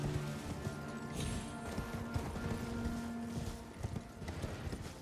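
Galloping horse hooves in the video game Elden Ring pound rapidly and steadily with a busy background of game music and ambience, fairly loud throughout.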